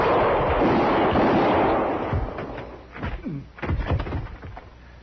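Gunshots in a mid-1950s Western radio drama, Gunsmoke: after a burst of broad rumbling noise, a few sharp cracks ring out at irregular intervals, fairly close and loud, with no talk over them.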